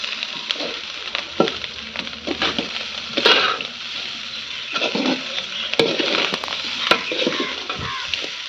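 Cauliflower gobi fried rice stir-fried in a pan with garam masala, a close steady sizzle broken by scraping and tossing strokes of the spatula, with no voices.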